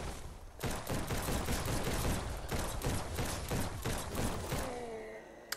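A newly crafted gun fires in Biomutant, a rapid steady volley of loud shots rattling for several seconds before stopping, leaving quieter game ambience with a faint tone.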